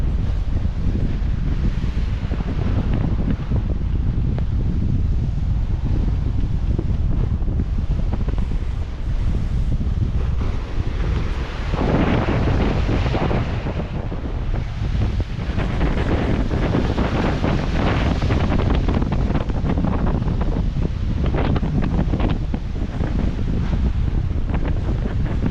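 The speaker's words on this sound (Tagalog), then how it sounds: "mabagal kasi mahangin at maalon" Strong wind buffets a slow boat crossing rough open sea in the West Philippine Sea, with steady roaring gusts and crashing waves over a constant low rumble, loud and continuous with no voices.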